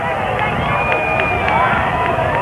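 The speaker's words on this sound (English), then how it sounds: "the people cheer." A crowd gathered in Dallas on November 22, 1963 cheers and roars for President Kennedy's arrival, a dense, steady wall of distant voices and shouting that stays loud and even throughout.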